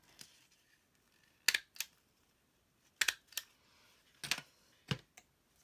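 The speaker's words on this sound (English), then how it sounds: "now I'm going to put a little staple just at the top" A desk stapler pushes staples through layered paper while assembling a vintage-style paper doll for a junk journal, giving four or five sharp, close clicks and crunches spaced about a second apart against a quiet background.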